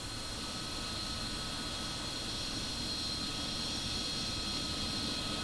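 A MiG-29 fighter jet flown by a professional aerobatic display squadron, heard as a steady, continuous engine roar with a broad hiss and a whining tone that holds level throughout, with no talk.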